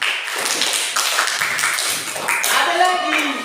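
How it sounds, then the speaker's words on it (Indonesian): Children in a fourth-grade village primary school classroom applaud: a dense wash of clapping from many hands, overlapping with voices and a teacher speaking. "Tepuk tangan"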